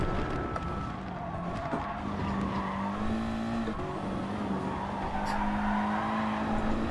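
A race car in GT Sport pulls through a corner with a steady, loud engine drone that shifts pitch as it upshifts into third, with light tire squeal mixed in.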